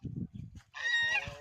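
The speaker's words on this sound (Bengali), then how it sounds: "কত সুন্দর রাজহাঁস, সাথে রাজহাঁসের বাচ্চা" Domestic geese with their goslings make a short run of low grunting notes, then a louder, drawn-out honk rises above them, and a few low calls follow. The birds sound close, and no one talks.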